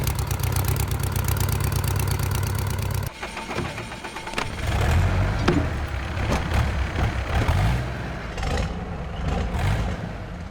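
A car engine recorded for Call of Duty, with a steady low idle rumble for about three seconds, then revving and surging irregularly up close and loud, with no voices.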